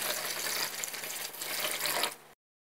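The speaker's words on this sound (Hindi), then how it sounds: "चावल को अच्छे से 4-5 पानी से धो लीजिए" Running tap water splashes steadily over basmati rice being rinsed in a kitchen sink, a bright continuous hiss of flowing water for about two seconds before stopping abruptly.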